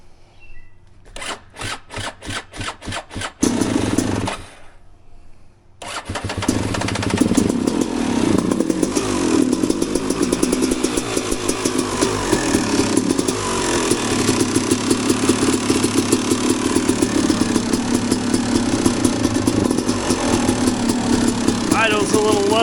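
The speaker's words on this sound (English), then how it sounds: "we are right now firing up a freshly cleaned smart carb, and we'll see if this thing fires up" Panthera motorcycle with a freshly cleaned carburetor cranks in a few quick bursts, pauses, then fires and settles into a steady, slightly low idle, close by, with a voice talking at times.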